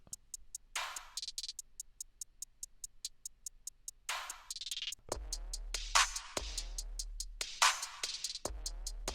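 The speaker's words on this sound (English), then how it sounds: "Next up, we got a clap" A programmed clap in a song's drum track, sharp bright hits over a ticking pattern, joined midway by deep booming bass notes, all layered in a dense electronic mix.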